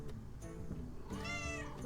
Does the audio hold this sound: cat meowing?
yes